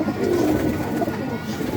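A pair of pigeons in a pigeon loft coos softly and low, close by, over a steady background hum with no talking.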